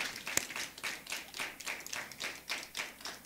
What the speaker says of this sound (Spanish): ¿Te podrás darle un aplauso al Señor?